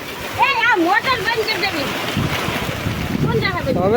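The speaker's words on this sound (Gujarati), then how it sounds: "આજ તો ખાલી જવો આ વરસાદ જ તે" Heavy rain pours down in a dense, steady wash of splashing hiss. People talk loudly close by over it the whole time.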